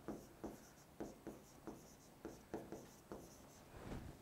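A pen scratches on paper in quick, regular strokes about twice a second, close and quiet with no talk.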